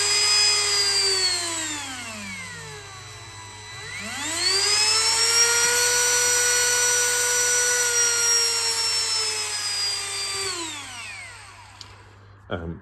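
A Milwaukee C12RT M12 cordless rotary tool whining close by as its speed drops, ramps sharply back up to a high steady pitch, then winds down and clicks off, no talk.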